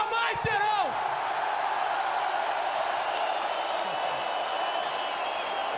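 A large hometown arena crowd at UFC 134 in Rio roars and cheers in a steady, distant wash, with a brief burst of whistling and shouting near the start, under a voice.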